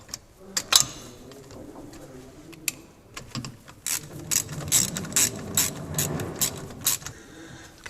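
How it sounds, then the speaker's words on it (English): A cut-down spanner ratchets and clicks on the differential bushing bolts of a Triumph TR6, a run of sharp metallic clicks and turns up close, with some faint background noise. "I'm using a spanner I've cut in half to do the top ones."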